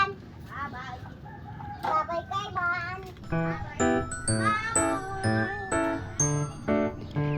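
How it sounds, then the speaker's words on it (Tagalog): Rooster crowing repeatedly among clucking chickens and ducks on a small farm, the calls overlapping and close, with steady farmyard background and no clear talk. "Habang ito naman si Bossing nag-aasikaso na nga nitong aming mga chicken at ang aming mga duck."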